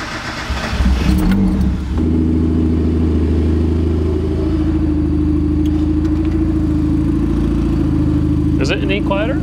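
Turbocharged Mazda Miata starts with its exhaust valve open in loud mode: a brief cranking gives way to a loud, steady, rumbling idle close by, with a short burst of voices near the end.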